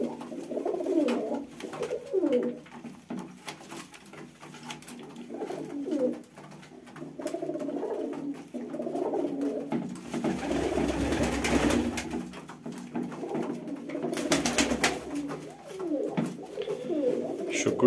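Pigeons coo throughout in a rooftop loft fitted with nesting boxes, several birds calling in overlapping soft rolling phrases, close and steady, with occasional rustling and a brief burst of louder noise midway.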